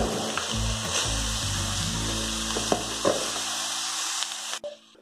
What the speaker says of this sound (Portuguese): Lembrando que é só uma refoga, porque tudo isso ainda vai pro forno